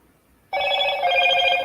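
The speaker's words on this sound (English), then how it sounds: "the phone just keeps ringing in the background" A telephone bell starts ringing abruptly after a short quiet moment, a loud sustained metallic ring with no talk over it.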